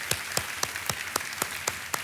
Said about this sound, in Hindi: एक बार फिर तालियों के साथ अभिनंदन।